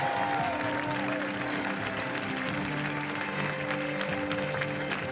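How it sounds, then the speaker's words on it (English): Crowd applause for the young Luxembourger Mats Wenzel, King of the Mountains at a stage of the Tour de Luxembourg 2023 podium, steady clapping with tonal music or voices running over it. "Should get the biggest cheer here"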